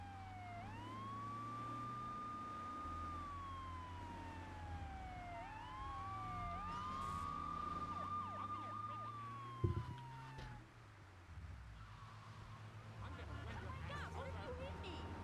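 Police sirens wailing in a GTA 3 mod, rising and falling tones sweeping up and down over traffic rumble, fairly close, with a sharp thud midway and someone talking over them.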